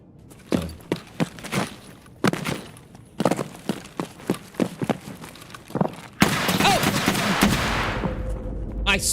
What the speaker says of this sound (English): This gun is so quiet, dude. This silencer is so good.